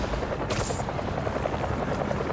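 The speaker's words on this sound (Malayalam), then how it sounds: "ഹെലികോപ്റ്റർ പിടിക്കണം എനിക്ക്." A helicopter in the Spider-Man 2 game on PS5 drones with a steady rapid rotor chop, loud and close, with a brief hiss early on.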